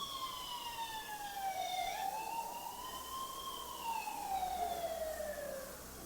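An Eyelink 4G CCTV camera sounding its alarm siren after detecting people, a wailing tone sweeping down and up in pitch, fairly faint and continuous with no talking.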